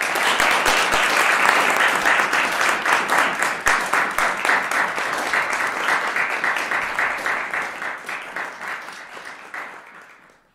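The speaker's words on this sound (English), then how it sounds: "I will ask us to clap for Ethan Ron" Audience applause at a university music department trumpet studio recital, a full room clapping in brisk overlapping bursts that thin into scattered claps and fade out near the end.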